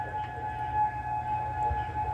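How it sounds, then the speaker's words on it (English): Outdoor tornado warning sirens wail steadily during a severe thunderstorm warning, a sustained droning tone carrying from a distance over low rumbling wind and background noise. "Freaking sirens are going off."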